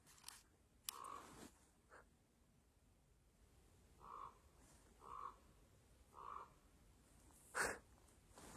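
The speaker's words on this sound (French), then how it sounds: "J'ai encore les mêmes corbeaux qui gueulent en arrière" Crows caw in the background, heard as several short harsh calls spaced about a second apart, faint and distant against a quiet outdoor backdrop, with no talk.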